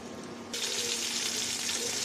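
Taki fish pieces dropped into hot white oil in a preheated pan, a quiet hiss that turns into a loud, steady sizzle partway through, close by with no talk.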